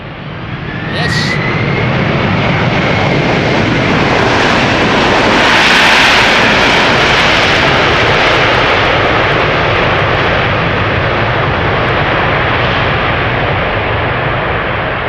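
Airbus A340 jet engines roar at an airport, a loud, continuous broadband rumble and hiss that holds steady for the whole stretch and swells slightly in the middle.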